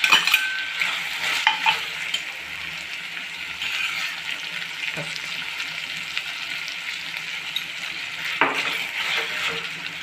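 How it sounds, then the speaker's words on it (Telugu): Raw prawns with green chillies, onions and tomato sizzle and hiss in hot oil in a pan, with a utensil stirring and clinking against the metal now and then. "ఇప్పుడు పచ్చిమిర్చి వేస్తున్నాను, ఉల్లిపాయలు వేస్తున్నానండి, టమాటో వేస్తున్నాను, రొయ్యలు వేస్తున్నానండి"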